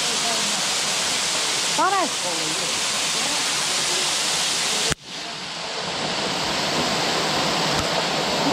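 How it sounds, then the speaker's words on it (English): Waterfall at Starved Rock State Park roaring as steady, dense broadband rush close by, with a brief voice speaking over it early on and a sudden dip and shift in the wash midway. "Get the waterfall."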